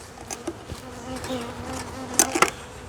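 Honey bees fly close by near their hive while a weaker colony is boosted with frames from a stronger one. A steady buzz drones throughout, with a few louder passes as individual bees zip past.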